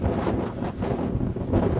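Strong outdoor wind buffets the microphone during kite flying, a loud, continuous rushing roar with gusty swells and no voices.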